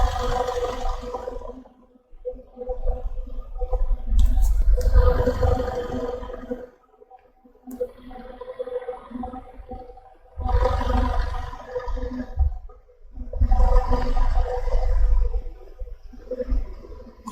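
Close-up exhaust from a Jeep with a stalling fault, rumbling in surging waves that rise and fall every few seconds as the idle RPM hunts up and down.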